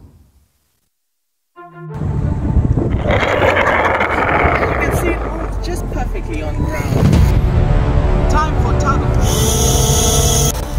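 An RC airboat's motor kicks in abruptly after near silence and roars loudly at speed, steady and close, with a rising whine toward the end.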